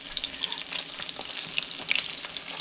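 Meat frying in melted coconut oil in a pan, a steady close sizzle with sharp pops and crackles scattered throughout, fairly loud and without any talking.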